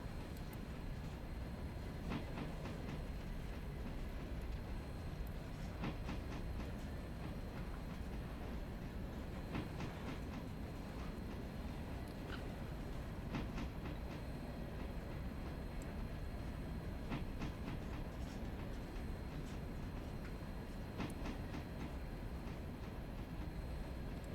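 A steam locomotive and rail cars roll steadily through a railroad video game, with a constant low rumble and faint repeating clicks of wheels on rail joints, heard on their own with no talk.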